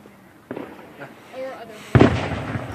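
Distant backyard firework bursts crackle and boom over several seconds, the loudest pop near the end, with faint voices in the background.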